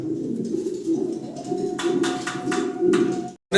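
Fancy pigeons coo steadily in a low, close rolling murmur, several birds overlapping with soft wing shuffles and faint background noise throughout.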